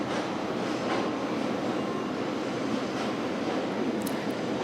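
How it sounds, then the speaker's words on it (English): A train rolls past nearby in a steady, continuous roar of wheels on rails, loud and unbroken throughout with no voices over it. "as this train is passing"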